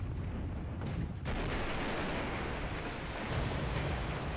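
Internal explosions aboard a ship in the War in the Pacific game: a continuous heavy rumbling roar, with one surge of a blast near the start and another swell later, dense and unbroken throughout.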